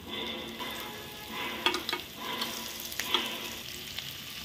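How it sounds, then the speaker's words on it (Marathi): Chopped onion and spring onion fry in hot tempering oil, a close steady sizzle punctuated by several sharp stirring clicks and scrapes of a spoon against the pan. "तर हा कांदा हा दोन्ही प्रकारचा आहे, तो आपण आधी फोडणीत घालूया."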